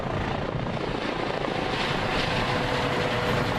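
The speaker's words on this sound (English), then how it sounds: "an OPP helicopter was back out searching the river" An OPP police helicopter searching over a river drones steadily overhead, its rotor and engine noise a continuous, fairly loud wash with no pauses.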